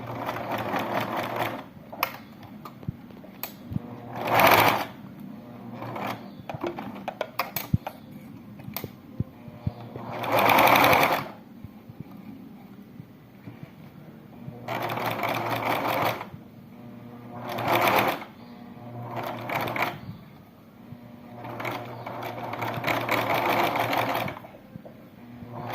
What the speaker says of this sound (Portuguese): eu vou passar uma costurinha reta mesmo, bem na beiradinha